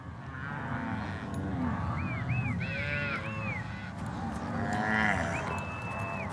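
Cattle in the Amazonian marshes moo repeatedly, several drawn-out, wavering calls overlapping at moderate distance against a steady outdoor background hush.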